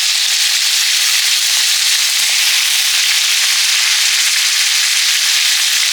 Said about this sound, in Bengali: কাঁচকলাগুলো এবার ভেজে নিচ্ছি